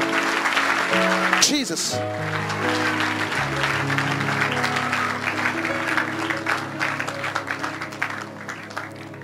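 A church congregation at a night vigil applauds and acclaims the Lord, with sustained clapping over music and a voice shouting out near the start, the clapping continuing throughout.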